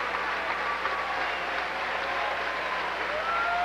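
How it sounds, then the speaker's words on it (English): Volleyball players and fans applaud in Klum Gym at a 1994 Rainbow Wahine match, a steady sustained wash of crowd clapping heard from a distance, without a break. "It'd be a great thing for the players to go out in the middle of the court and clap for the Klum fans."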